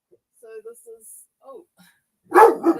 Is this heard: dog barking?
yes